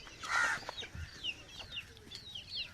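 Hens cluck softly and irregularly nearby, with faint chirping bird calls scattered through the background.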